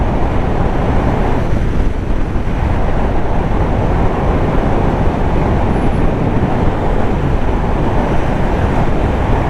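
KTM Duke 390 motorcycle cruising on a highway among traffic, heard as constant loud wind roar and road rush with an engine drone beneath, unbroken throughout.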